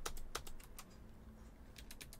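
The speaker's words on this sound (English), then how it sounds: "I'm using my physical keyboard to play this" Keys clack on a physical computer keyboard while someone plays an MS-DOS game, a quiet close-up burst of quick taps, then a short pause, then another cluster of presses.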